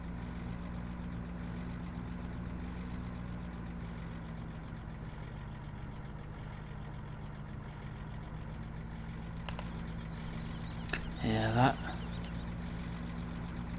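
A low truck engine idles steadily in Farming Simulator 17 with a constant droning hum. Near the end a brief clatter and squeal break through.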